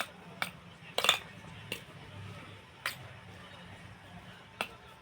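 A spoon mixes corn chaat in a dish, with occasional light clinks of metal on the bowl spaced apart over a faint background, close but quiet.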